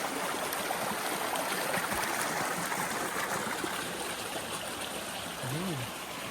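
Clear, shallow stream water running over rocks, a constant close rushing and trickling wash that fills the whole stretch, with a brief low voice sound near the end.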